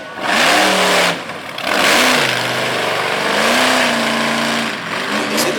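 A monster truck engine at a Durham, Connecticut arena show is refired and revved hard, its loud roaring pitch climbing and falling in repeated surges with no talk over it.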